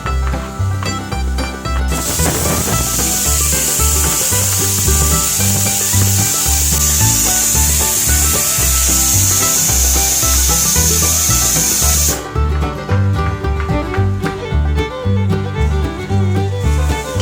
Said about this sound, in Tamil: அதுக்கப்புறம் பார்த்திங்கன்னா இஞ்சி பூண்டும் போட்டு நல்லா வதக்கிடணுமா.